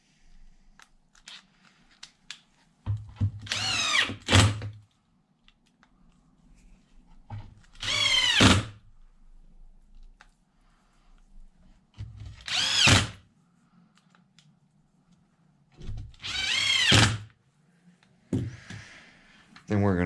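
A power tool drives the bottom bolts into a Traxxas Xmaxx RC truck bumper in four short whirring bursts, with quiet pauses and small clicks between them.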